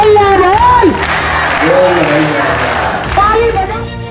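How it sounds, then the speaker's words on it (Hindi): A large crowd of striking Mitanin health workers at an NHM protest claps loudly in a sustained burst of applause, with a voice speaking over it and other voices mixed in. "ताली बजा"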